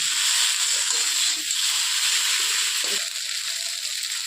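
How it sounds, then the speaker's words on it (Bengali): Chowmein noodles tossed in a pan with fried spices give a steady, broad sizzling hiss that runs on without a break, with faint clatters now and then underneath. "করে চাউমিনগুলো ভেজে নিই।"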